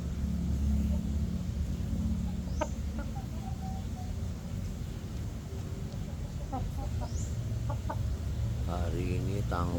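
Backyard chickens recovering from a respiratory illness cluck and call in short bursts over a steady low rumble, with a brief higher rooster-like call near the end.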